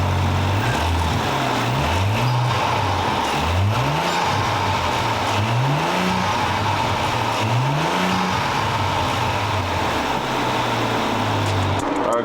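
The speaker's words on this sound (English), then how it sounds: "We should do a start before and rev the car and see how it sounds without this" An Audi Q7 engine with its stock intake, before any upgrade, blips repeatedly from idle in short rising revs at an even pace, then settles back to a steady idle, close and alone.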